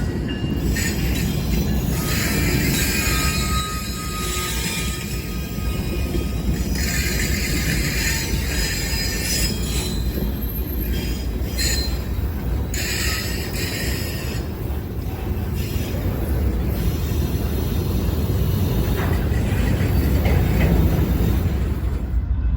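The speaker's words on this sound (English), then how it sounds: "NS234 is a priority intermodal train which comes out of Chicago, Illinois, Landers Yard" A Norfolk Southern NS234 priority intermodal freight train passes close by. It makes a loud, continuous rumble of wheels and cars throughout, with high squealing and rattling on top.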